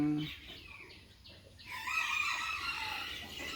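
Bantam chicken in Khon Kaen crowing, a drawn-out bright call rising after a short pause, with a few soft clucks before it, fairly close and clear.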